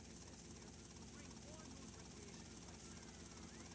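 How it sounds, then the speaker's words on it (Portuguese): A helicopter flying in GTA Vice City on Android, a steady whirring rotor drone with hiss, faint and continuous throughout while a person talks over it. "E nós de boa andando de helicóptero."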